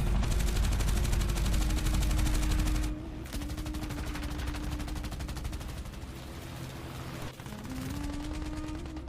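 Rapid machine gun bursts from a fighter aircraft in air combat over the Egyptian desert, an Israeli pilot firing on an Italian Macchi C.205V; dense, loud crackling gunfire with a sustained engine drone beneath, pausing briefly before resuming.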